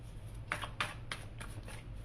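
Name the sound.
tarot cards being shuffled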